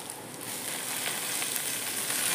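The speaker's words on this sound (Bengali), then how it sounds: "পেঁয়াজ রসুন কাঁচা লঙ্কা ভাজা হয়ে গেছে, এখন টক শাকটা দেবো।" Steady, close sizzling from an iron kadai where onion, garlic and green chilli fry in oil just before sour greens go in, a continuous even hiss with no talk.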